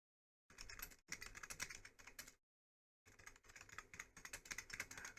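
Rapid clattering keystrokes on a computer keyboard come in two close, busy bursts separated by a short pause of silence, with no voices.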